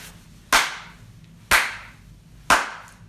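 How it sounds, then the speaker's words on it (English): A slow hand clap in a kitchen: three sharp, loud, close claps spaced evenly about a second apart, each ringing briefly in the room before silence. "I manifested my anger in a slow hand clap"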